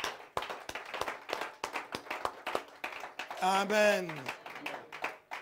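Church congregation clapping in approval of a sung psalm, a burst of sharp, close handclaps scattered through continuous talk, with a sustained sung voice rising briefly in the middle.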